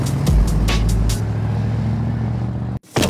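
A car heading to a Formula 1 racetrack gives a loud, steady engine drone that holds for about three seconds, then cuts out sharply and briefly returns.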